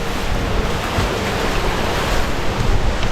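A river in Jamaica running high and deep, a dense, continuous rush of water with wind buffeting the microphone, loud and unbroken throughout.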